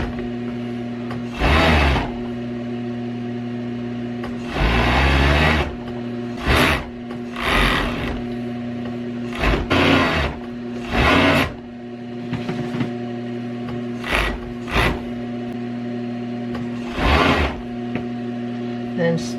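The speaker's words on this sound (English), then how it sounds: "Okay, let's sew that up and just start at the bottom here where you've done your cuts." A sewing machine stitches a pillow cover made from an old T-shirt, running in several separate bursts of steady mechanical whirring with short pauses between them, close and fairly loud over a constant low hum.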